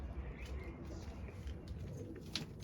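Pigeons coo softly and faintly in a rearing setting, a few low murmuring calls over quiet background hiss, with no voices.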